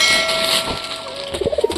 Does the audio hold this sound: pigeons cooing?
yes